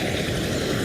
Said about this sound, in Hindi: सेना नेता प्रस्थान करते हुए हेलीकॉप्टर उड़ान भर रहा है।